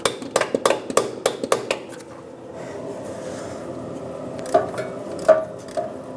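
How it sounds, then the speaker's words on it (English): A socket is tapped onto the rear shock absorber nut of a 1996-2002 Toyota 4Runner: a rapid run of sharp, close metallic knocks, then a pause and a few scattered, louder taps. "Tap it on if you have to make sure that it really grabs onto that nut."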